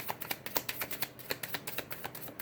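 Playing cards riffled and bridged in a rapid series of crisp, papery flutters and snaps, fairly close and moderately loud, with no talking over them.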